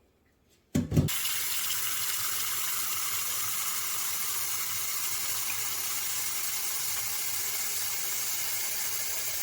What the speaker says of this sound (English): Now, I'm going to fill this with water.